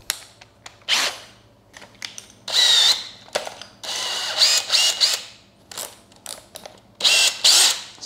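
A DeWalt cordless drill runs at speed 2 in several close bursts of whirring, starting and stopping with short gaps between, loud against a quiet background.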